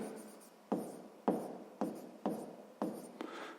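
Pen strokes scratch across notebook paper by hand, five or six short rhythmic bursts spaced about half a second apart, close and quiet in a still room.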